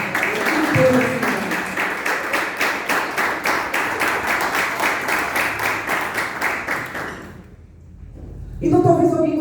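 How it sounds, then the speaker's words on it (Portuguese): Church congregation clapping in a steady, rhythmic burst of applause that fades out near the end before a voice resumes speaking. "Dá uma salva de palmas"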